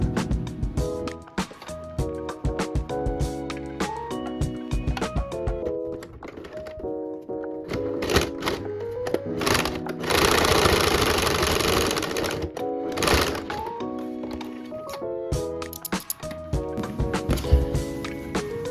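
A sewing machine top-stitches a quilted crossbody phone bag to close a gap, with stitching bursts mixed under steady background music.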